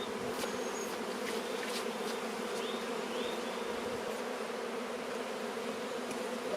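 Italian honeybees swarm around an opened hive frame, a dense, continuous drone of many wings with occasional louder individual bees passing close by, a steady hum that fills the whole stretch.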